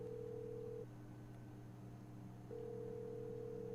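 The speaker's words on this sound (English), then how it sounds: "then pulls out his phone to call someone" Two long electronic ringback tones sound from a phone call in the video game Love and Deepspace, separated by a silent pause, steady and quiet with no talking.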